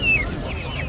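A brief close cluck from a rooster at a village market, with a faint high call and a low background rumble.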